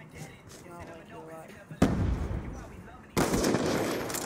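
Sniper rifle fire in Black Ops 2: after a stretch of quiet talk, two loud, sharp shots ring out about a second and a half apart, each leaving a broad, rumbling tail.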